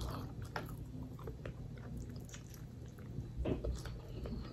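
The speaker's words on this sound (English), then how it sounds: "I'm chewing on bones and everything." Someone chews on jerk chicken bones close to the mic, with soft crunching and wet biting sounds in irregular bursts over a low background hum.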